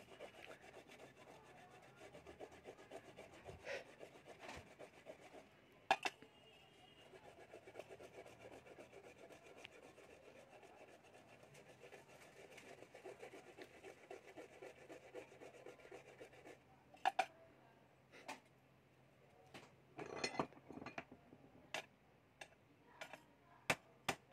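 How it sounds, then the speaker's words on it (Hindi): Sandpaper rubbing the rim of a pressure cooker, a steady scraping rasp for long stretches, broken by sharp knocks and clatters near the end, close and fairly quiet. "आप एक बालू पेपर लेके"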